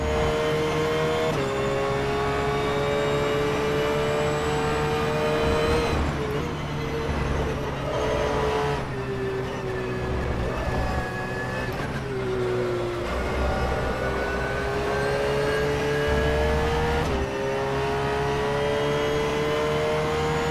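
Sustained whining racing engine of a Porsche 911 GT3 lapping Silverstone in rFactor, pitch climbing through gears and dropping sharply on several upshifts and braking points, loud and continuous.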